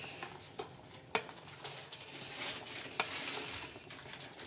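Macaroni being stirred in a pan with a few sharp scrapes of a utensil against the metal over a steady soft sizzle, close and fairly quiet, with no talking.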